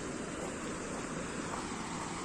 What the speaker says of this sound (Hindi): नदी की आवाज़ जैसे जैसे पास जा रहे हैं, नदी की आवाज़ और तेज होते जा रही है